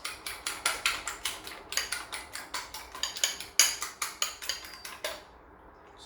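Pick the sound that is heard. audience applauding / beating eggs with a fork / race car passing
beating eggs with a fork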